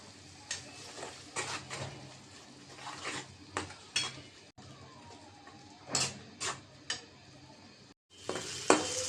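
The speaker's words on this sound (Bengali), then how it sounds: "মশলাটা কষানো হয়েছে" Chili, turmeric and coriander powder masala with bay leaves and salt sautéing in a pan, a soft low sizzle broken by intermittent spatula scrapes and clinks, fairly quiet throughout.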